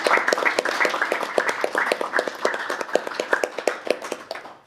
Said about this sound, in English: Can we just give Louise a massive round of applause?